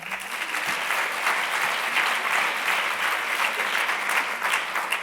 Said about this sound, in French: Vous pouvez l'applaudir.